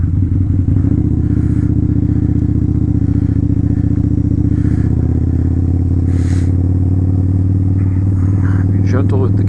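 A Harley motorcycle engine rumbles steadily and loud up close while riding through a snowy, icy, slushy blizzard, with a low continuous drone and occasional clatter throughout.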